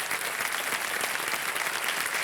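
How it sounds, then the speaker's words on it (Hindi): Studio audience applause on the quiz show KBC during a Diwali episode, a dense, even wash of many hands clapping that stays steady and fairly loud throughout the short burst. "तालियां बज जाए इनके लिए।"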